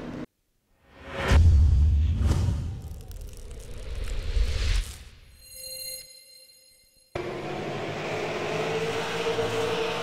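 Race cars in a sim racing video game, a Ford Mustang among them, whoosh past in several separate passes, followed by a short tonal electronic tone and then a steady engine drone.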